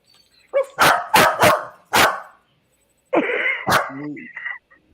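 A dog barks four times in quick succession nearby, then a short pause before a voice talks and another bark cuts in.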